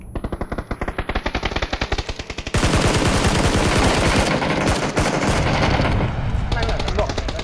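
Automatic gunfire in the battle royale game PUBG, rapid bursts of shots that swell into a dense, continuous, loud stream of fire.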